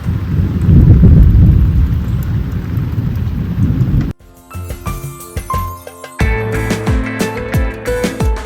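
Thunderstorm with heavy rain during rainy season in Costa Rica: dense, loud rain roar with deep rumbling for about four seconds, then cutting abruptly into quieter music-like tonal sounds.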